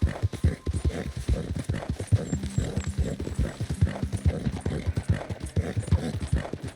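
A horse gallops in Red Dead Redemption 2, rapid rhythmic hoofbeats pounding close and steady throughout, with a short whinny partway through.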